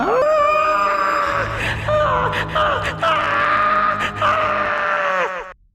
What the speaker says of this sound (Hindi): उसकी भयानक और मर्मांतक चीख से पूरा कब्रिस्तान गूंज उठा था।